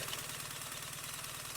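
BMW R 1300 GS motorcycle engine idles steadily in neutral, a faint, even low throb with a regular pulsing rhythm and no talk over it.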